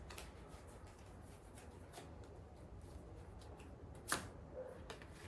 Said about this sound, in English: Let's choose a card.